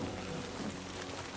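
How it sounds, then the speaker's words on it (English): Rain falls in Death Stranding 2 as a quiet, even hiss of drops with no other sound over it. "Rain never stops."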